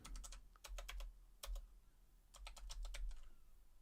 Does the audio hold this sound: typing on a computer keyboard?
yes